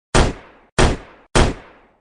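Three loud gunshots fired one after another at an even pace, each a sharp crack with a short decaying tail, alone with no voices, in a dramatized double-murder scene.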